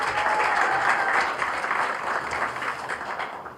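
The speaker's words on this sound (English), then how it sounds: "A round of applause to Cheryl and her team." Applause fills a room for Cheryl and her team at a pitch event, a moderately dense round of clapping that stays even, then thins slightly toward the end.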